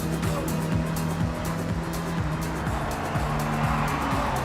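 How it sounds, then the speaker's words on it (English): A car in a racing video game braking and cornering, engine revving up and dropping repeatedly in a steady cycle of gear shifts, with continuous road and tire noise underneath. "You gotta keep braking with this car before every turn"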